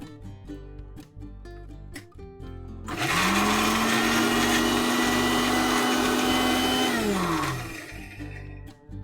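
A mixer grinder grinding almonds and cashews spins up loudly and whirs steadily for several seconds before winding down, with quieter clattering before and after.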